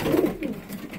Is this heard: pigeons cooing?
yes